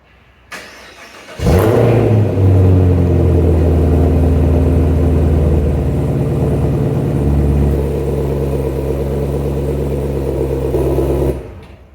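Chevrolet Camaro ZL1 on its stock exhaust firing up from cold: a starter whir, then a sharp loud flare of revs settling into a high, steady fast idle close by, cut off near the end.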